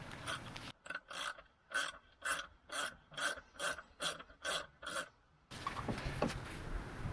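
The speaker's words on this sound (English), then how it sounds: "Undo the front Torx screws first because that plastic cover is held on a lip at the front." Torx screws being undone on the plastic undertray of a car during an oil change, heard as about nine rhythmic ratcheting rasps in steady succession, close and alone, with broader workshop noise before and after.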